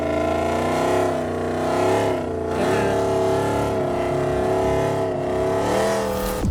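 Ford's 1000hp Bronco engine roars steadily and loud throughout, its revs rising and dipping in waves as it is driven through rutted ground and over a jump, with a sharp surge near the end.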